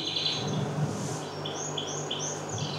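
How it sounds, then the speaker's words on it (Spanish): Many birds sing at once, with bright, repeated short chirps and tweets layered over a soft, steady background and no voices. "Decenas de pájaros cantando al mismo tiempo"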